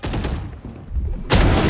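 Gunfire from the tactical shooter game Valorant, a burst of sharp shots at the start and a louder volley near the end, set against busy in-game noise.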